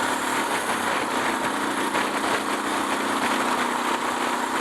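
A loaded BMW-style adventure motorcycle on a Nevada backcountry shakedown ride cruises steadily, its engine droning at an even, constant pitch with no talking over it.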